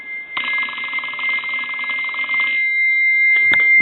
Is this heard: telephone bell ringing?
yes